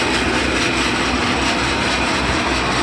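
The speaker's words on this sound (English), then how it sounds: "Here you can see the rotary screen and call out auger running. Everything hums along nicely." A fully serviced NECO rotary grain cleaner runs with its rotary screen and auger turning, giving a loud, steady, even mechanical roar and hum with no breaks or knocks.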